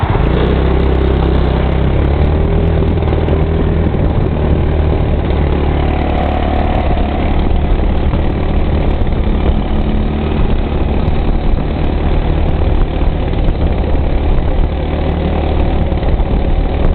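A Hammerhead SS250 engine idles steadily and loudly up close, with a continuous rumbling drone and faint sputter throughout and no voices.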